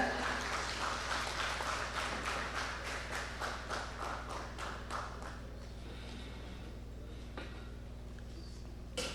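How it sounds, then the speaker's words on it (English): An audience at a ceremony during the AFNIS 2025 summit claps in a fairly even, rhythmic patter over a low electrical hum, then the clapping thins and fades toward the end. "That applause can be better."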